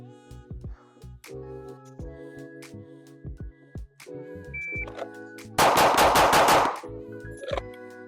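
Rapid pistol gunshots during a shooting drill, fired in quick strings with short gaps between them, with one dense, loud burst standing out near the end, no talk.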